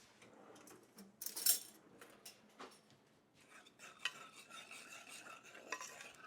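A spoon stirs a garlic lemon brown butter sauce in a pan, giving soft scraping swirls and a few light clinks against the metal, close but quiet, with no one speaking.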